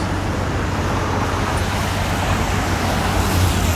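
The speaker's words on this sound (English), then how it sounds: "Wow, those cars went to the last second." Steady roar of Midtown New York City traffic on an evening street, cars rolling past close by in a continuous dense wash of road noise with no voices.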